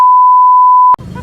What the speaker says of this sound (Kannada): ಬೀಪ್ ಮಾಡಾಕ್ತೀನಿ